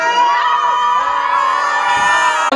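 A classroom full of schoolchildren yells and cheers together in one sustained loud roar of many voices, close and continuous.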